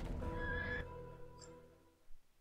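A horse in Neverwinter rears and neighs once in a loud, drawn-out whinny that fades away, followed by a faint clatter and no talking.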